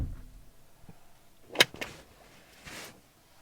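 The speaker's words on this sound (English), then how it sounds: "I will close the door." A single solid door thump of a 2024 Mercedes GLE 53 AMG Coupe hybrid lands midway, followed by a softer click and a faint muffled rustle in an otherwise quiet interior.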